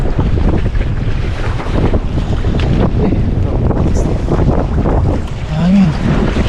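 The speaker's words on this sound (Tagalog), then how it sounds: "Hangin." Strong wind buffets the microphone out on open water near a boat, a loud, continuous rushing roar with gusts and faint water sounds.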